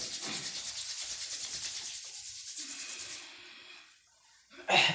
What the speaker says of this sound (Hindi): दोनों हाथ को रब करेंगे और हीट जनरेट करेंगे